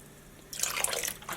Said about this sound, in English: 2 healthy splashes of vinegar to our pot.